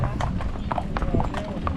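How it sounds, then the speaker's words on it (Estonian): Horses shift and step about on a family day outing, hooves clip-clopping in irregular close beats beneath steady talking from a person moving between them. "ma katsun siin hobuste vahel navigeerida ja nihutada"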